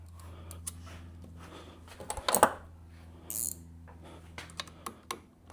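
Small metallic clicks and ratcheting taps come from tightening a nut underneath the lever on a Yamaha XMAX 300 scooter, a few close, quiet bursts over a low hum.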